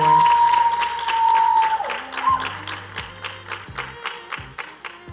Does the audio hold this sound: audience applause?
yes